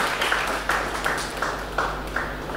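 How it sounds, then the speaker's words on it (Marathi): An audience at a book launch applauds in a steady, moderately loud wash of clapping, with repeated sharper bursts rising every half second or so. "सर्वांनी टाळ्या वाजून आपण त्यांचं अभिनंदन करू"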